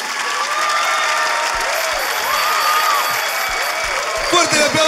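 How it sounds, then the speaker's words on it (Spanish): Audience applause after a Spanish-language stand-up comedy set, steady clapping throughout with a host's voice talking and calling out over it. "¡Fuerte el aplauso para Michelle Serrate!"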